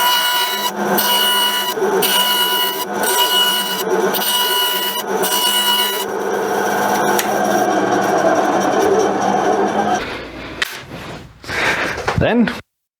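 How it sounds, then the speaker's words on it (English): A bandsaw cuts through a wooden part in a workshop, a steady loud whine with rhythmic pulsing bursts for about ten seconds before it cuts off, followed by a few brief clatters. "And then we are ready for the bandsaw."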